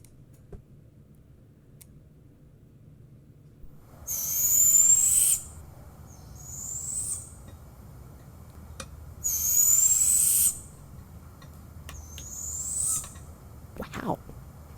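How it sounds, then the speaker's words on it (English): Owls calling back and forth at night in an Animal Crossing backyard, with several bright, drawn-out hoots or screeches in separate bursts over a quiet, faintly hissing dark background. "This is 3 different birds talking to each other"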